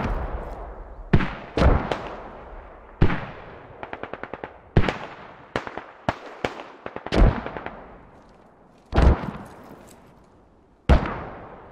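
Squad gunfire and explosions during a platoon firefight: sharp loud reports and booming blasts scattered irregularly, with short rapid machine-gun bursts between them and long echoing decays.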